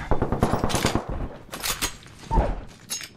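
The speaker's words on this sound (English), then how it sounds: "I'm taking fire." Rapid bursts of automatic gunfire in Apex Legends, a fast rattling volley at the start followed by further scattered shots and impacts, loud and close with no talk.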